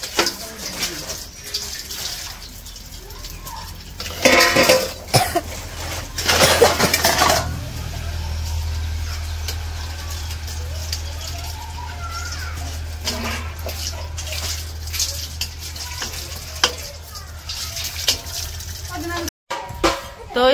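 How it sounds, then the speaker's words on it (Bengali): Plates and bowls being washed with water at a village home, with running water and intermittent clattering splashes. A person talks over it throughout. "তো ওই যে এদিকে থালবাটি ধোয়া শেষ আমার"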